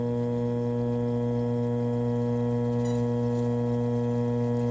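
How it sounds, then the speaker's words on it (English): Small watchmaker's lathe turning a chucked stainless Rolex Submariner 16610 case back during polishing, giving a steady low motor hum with faint whine throughout, with a brief light scrape near the end. "I'm basically chucking the case back up on the lathe. Turn it on,"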